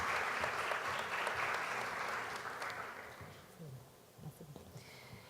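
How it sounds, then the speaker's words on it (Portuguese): An audience at a branded content marketing forum in Brazil applauds, a broad, sustained crowd clapping that slowly thins out and ends with a few scattered claps. "Por favor, uma salva de palmas."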